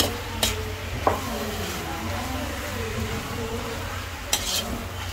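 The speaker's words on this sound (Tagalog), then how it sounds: "at saka hahaluin natin" Pork menudo being stirred in a pan while it sizzles softly, with a few sharp clicks of a utensil against the pan standing out over a steady low frying hiss.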